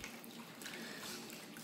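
Dirty chainsaw chains are agitated in a soda crystal solution, giving a steady, faint wet sloshing and swishing with no speech.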